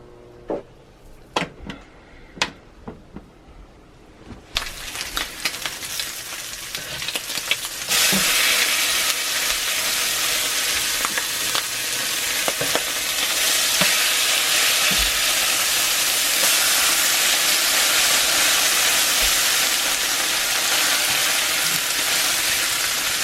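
Bacon and mushrooms sizzle steadily in a non-stick pan, a dense, loud hiss that swells after a few scattered clicks and utensil taps at the start and then holds continuously to the end.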